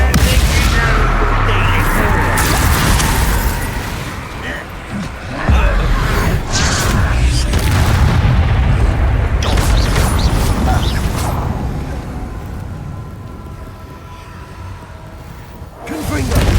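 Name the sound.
Confringo and Bombarda spell explosions in Hogwarts Legacy video game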